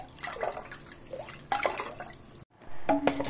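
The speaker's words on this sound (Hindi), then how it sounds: "देखिए एक उबाली आ गई" Milk comes to a boil in a pot on a gas stove while being heated to make paneer, giving close, wet bubbling and gurgling pops in uneven bursts with one brief pause.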